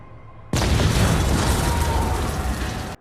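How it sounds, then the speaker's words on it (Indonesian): A sudden, loud bomb blast erupts and rumbles on as a sustained roar for a few seconds before cutting off. "Kemudian, bom tersebut meledak sesaat setelahnya."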